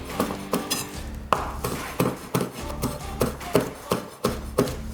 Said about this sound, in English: since the knife's already out, we'll do that green onion, or scallions